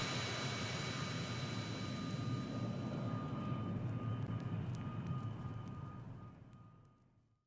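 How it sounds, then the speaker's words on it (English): A jet takes off with a broad, steady roar and a faint high whine, then fades out toward the end. It sounds distant and muffled, with no talking. "Light the afterburner, the plane eats up the pavement below me, pull back on the stick, the starfighter leaps from the runway"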